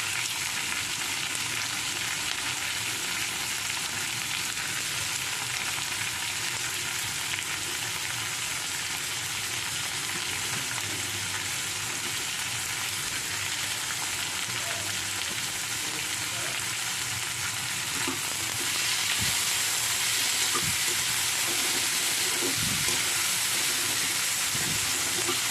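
Tomatoes and beans sizzle steadily as they fry in a pan for a mixed vegetable sandwich filling, with a constant close hiss, occasional soft stirring scrapes, and a brighter, louder sizzle near the end.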